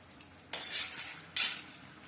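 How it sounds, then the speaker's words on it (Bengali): Vegetable chorchori is gently stirred in a pan, two soft scraping sweeps of a utensil across the pan, close and unhurried, with no voices. "এখন একটু আলতো হাতে একটু নেড়ে ছেড়ে দিই"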